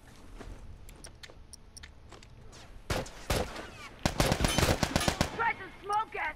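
Gunfire from a weapon in the video game The Last of Us Remastered comes as a few scattered shots followed by loud rapid bursts in the second half, with faint ticking between them.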